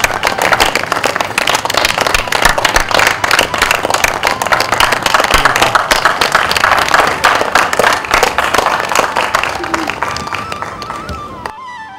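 Loud, dense clapping from an audience welcoming a singer onto the stage, a continuous wash of hand claps that stays strong throughout and fades at the very end.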